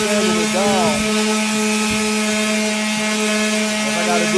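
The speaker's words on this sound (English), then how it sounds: "So I take the time and just keep sanding it down." Continuous, loud abrasive grinding as a wooden floor panel for a car trunk is sanded down, a steady close-up rasp with a droning tonal hum and small shifts in pressure throughout.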